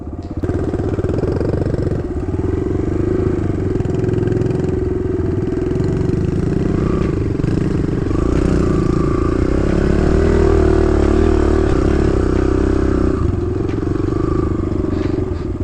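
A dirt bike engine runs and revs while being ridden outdoors, a continuous loud throaty drone with clattering, uneven surges of throttle and a lift in pitch partway through, no talking heard.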